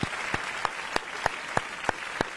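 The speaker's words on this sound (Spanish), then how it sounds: "están empezando a aparecer los aplausos a través de nuestra transmisión" Sparse, evenly spaced claps ring out about every third of a second over a steady background hiss during a broadcast, sounding like a single person clapping rather than a crowd.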